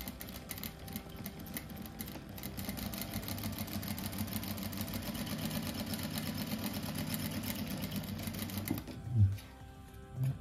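Sewing machine stitching seams on a simple patchwork rug, a faint, steady mechanical rattle with rapid regular stitching pulses that run for about nine seconds before stopping, followed by a brief bump and quiet room noise.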